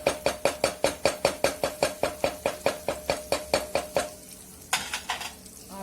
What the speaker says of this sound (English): Let all the dry powders fry very well.